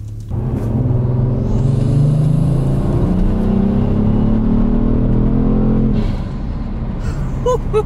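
Inside a Kia Stinger fitted with an HPS cold air intake, windows closed: a steady engine drone rises in pitch under acceleration for several seconds, then eases off to a lower cabin rumble.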